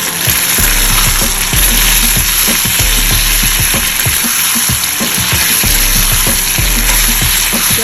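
Capsicum and paneer sizzle loudly in an oiled pan while being stirred, with a steady close frying hiss and rhythmic spatula scrapes throughout.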